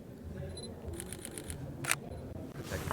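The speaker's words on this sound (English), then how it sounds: "The shutter's apparently redesigned. Last 500k actuations, vibrates less, still sounds like hamster stuck in a trapdoor." The shutter of a Sony a7R III camera fires in a quick run of soft mechanical clicks, followed by one sharper isolated snap, close and crisp over light room noise.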